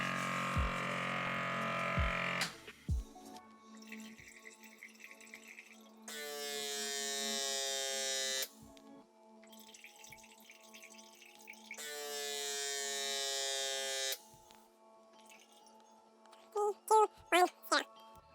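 A Gourmia Brewdini 5-Cup cold brew coffee maker running its pump cycle: alternating bursts of buzzing motor whine and quieter gurgling and clicking, with two long pumping stretches, followed by a few sharp clinks near the end.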